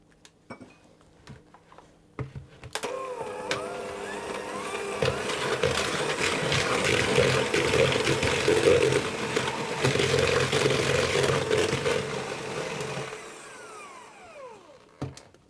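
An electric mixer creams butter and sugar in a bowl, starting after a few faint clatters and running loudly and steadily for about ten seconds before it cuts off, leaving a few quiet knocks.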